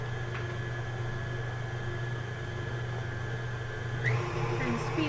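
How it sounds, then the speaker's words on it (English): Purple electric mixer beating Snickers pie filling in a bowl, a steady moderate mechanical whir with constant hum, rising slightly near the end, with faint talk. "here we go in my purple mixer. Let that mix for a few minutes."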